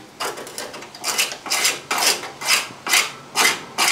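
A screwdriver scrapes solid, caked-on red dirt from a crusty old car, giving about eight rhythmic rasping strokes that sound close and fairly loud with brief pauses between them.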